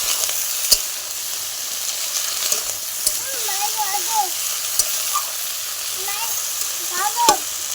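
Rohu fish and vegetables with green chillies sizzle in a frying pan, a steady hiss with occasional sharp stirring clicks, while faint whistling birdlike chirps sound in the background.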